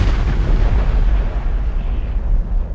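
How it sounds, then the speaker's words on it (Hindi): A loud explosion from a bomb or explosive device near a parking area: a heavy, continuous low rumbling roar that fills the clip and slowly tapers off, with no voices. "एक जोरदार धमाका होता है।"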